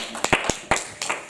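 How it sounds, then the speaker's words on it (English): A church congregation claps hands in praise. A handful of sharp, uneven claps ring out close by in a short burst, with no voices over them. "Clap your hands and celebrate Jesus."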